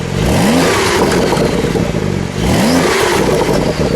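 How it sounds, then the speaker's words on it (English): A loud 2023 Porsche 911 (992) Sport Classic exhaust revs twice in Sport Plus mode, each blip rising sharply then falling back into a rumbling, crackling idle, close by. "I want to listen to the exhaust for a second."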